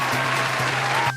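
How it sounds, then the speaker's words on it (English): A steady wash of canned applause, even and unbroken, with a faint low hum underneath that cuts off abruptly at the end. "That applause was a bit forced"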